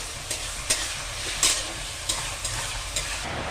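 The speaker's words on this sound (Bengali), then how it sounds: "মা এখানে দেখো ফ্রাইড রাইসের জন্য গাজর আর বিনস নুন আর তেজপাতা দিয়ে এবারে সুন্দর করে ভাজছে।" Carrots and beans fried in a pan with salt and bay leaf for fried rice sizzle steadily, with a spatula scraping and stirring in several sharp, close strokes.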